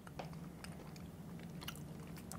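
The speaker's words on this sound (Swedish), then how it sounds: "jag hör det bara krasar choklad" Close crunching and chewing of Marabou milk chocolate with sea salt, a steady run of crisp bites and munching with no talk.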